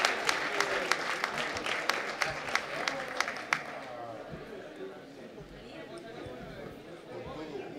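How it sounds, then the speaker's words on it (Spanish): Audience applause at the Premio CAME Cultura 2022 award ceremony: a few seconds of close, crisp clapping that quickly dies away into murmuring crowd chatter. "Un aplauso a Franco"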